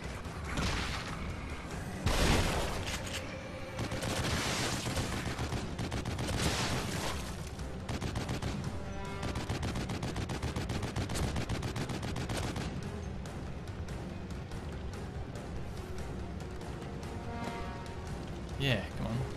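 Sustained bursts of gunfire from a mounted gun in The Evil Within video game, dense rapid rattling with a loud boom near the start, while a player talks and shouts throughout.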